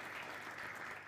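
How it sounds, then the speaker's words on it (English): An audience at a research dissemination forum applauds in a brief, even burst of clapping that carries through the hall. "Let's give him another round of claps."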